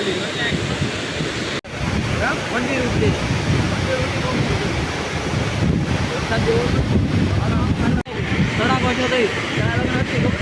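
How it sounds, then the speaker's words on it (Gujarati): Heavy rain pours steadily at the overflowing Droneshwar Dam, a dense, loud broadband roar of water and wind buffeting the microphone, with two brief dropouts and voices talking faintly beneath. "વરસાદ તો પાછો બહુ આવી ગયો"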